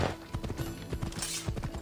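Hooves of a horse in Assassin's Creed Odyssey clip-clop in a steady trotting rhythm on a hard path, near and moderately loud over ambient game sound.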